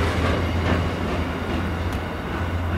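Train passing through Cardiff Central station hauling large covered wagons, giving a steady, loud low rumble and rolling noise that continues throughout.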